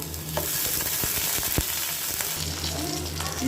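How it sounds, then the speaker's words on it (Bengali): Ash gourd pieces fry in hot mustard oil in a pan on the stove, giving a steady close sizzle broken by scraping stirs and spatula knocks; no talk. "তেল গরম হয়ে গেছে এবার চাল কুমড়াগুলো হালকা করে ভেজে নিব"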